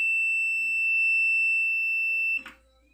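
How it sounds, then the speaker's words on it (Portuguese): Multimeter continuity tester checking the fuse of a Panasonic NN-ST354W microwave oven gives one steady, piercing high-pitched beep held for over two seconds, then stops with a short clatter of the probes. "Se ele bipar aqui, o fusível tá bom."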